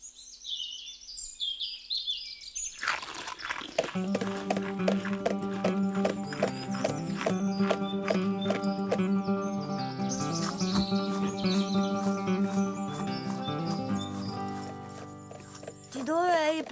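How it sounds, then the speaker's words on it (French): A horse whinnies, then its hooves clip-clop in a steady rhythm, close and prominent, with bird chirps and music-like tones around it and another whinny near the end. "Dis donc, il est pas très nerveux ton cheval quand même."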